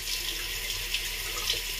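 Water running steadily from a tap into a sink while hair or skin is rinsed out, a continuous close hiss and splash with no voices.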